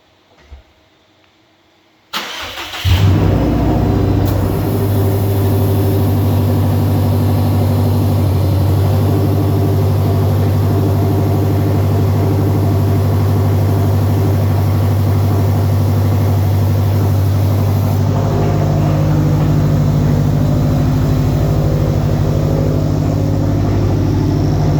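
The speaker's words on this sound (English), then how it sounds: "Should hear a little more turbo noise" A 2016 Subaru STI with an external wastegate and front-mount intercooler starts up on a dyno after near silence, then holds a loud, steady, droning run with turbo whine throughout, close and continuous.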